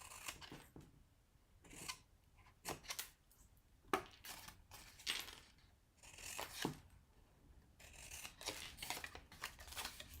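Scissors make a series of quick, close, crisp snips as they angle-cut the corners of paper box tabs, spaced irregularly with soft paper handling in between.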